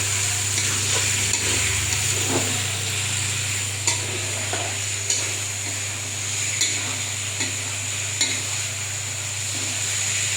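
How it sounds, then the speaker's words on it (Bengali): Country chicken meat stir-fried in a pan, a constant close sizzle with a low hum beneath and periodic clicks and scrapes of a spatula against the metal. "আমি এখন মাংসটা কষিয়ে নেব।"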